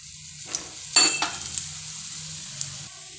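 Gram flour pudla cooking in a pan with added oil, a soft steady sizzle with a few sharp clinks and scrapes of a utensil against the pan near the start.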